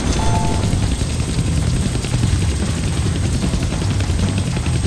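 A helicopter hovers in a Deadpool video game, its loud, steady rotor thump and engine roar filling the whole stretch close by, with no talking.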